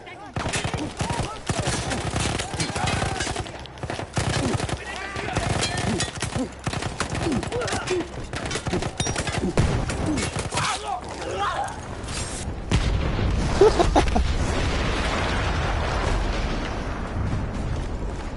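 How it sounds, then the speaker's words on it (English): Gunfire and explosions from Battlefield 1, a First World War shooter, rattle loudly and densely for a long stretch with bursts and blasts, then give way to a heavier rumbling roar near the end, with no talk over it. "That explosion was one of the sweetest sights of the war for me."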